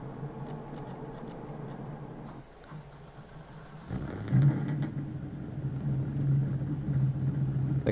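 A Mitsubishi Evo engine in the CarX Drift video game hums at a low idle, dips briefly, then swells into a louder, sustained rumbling drone with a few light ticks near the start.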